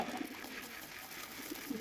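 Flying pigeons in a loft coo softly in low, throaty bursts, several rounded calls spaced through a quiet, faint background.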